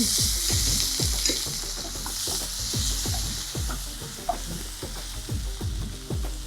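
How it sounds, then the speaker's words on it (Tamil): Chopped tomatoes fry over lowered heat in a pan for dal with a steady sizzle and hiss, while a spoon scrapes and stirs in a regular rhythm close by. "தீயை கொஞ்சம் குறைச்சிட்டு தக்காளி பொடியை நறுக்கி சேர்த்துருங்க"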